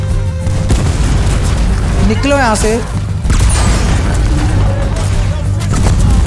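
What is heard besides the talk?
grenade explosions in Red Dead Redemption 2 video game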